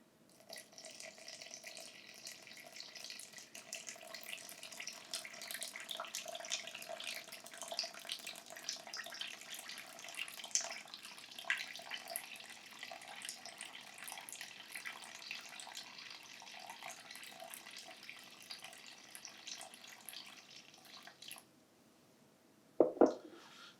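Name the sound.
pouring warm water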